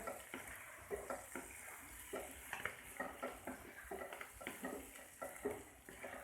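Liver fry with coriander leaves is stirred and mixed in a pan, giving a soft steady sizzle broken by repeated scraping and tapping of a spoon against the pan.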